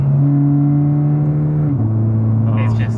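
A Toyota sports car's aftermarket exhaust hums steadily at a low pitch, then drops to a deeper rumble partway through; a faint voice comes in near the end.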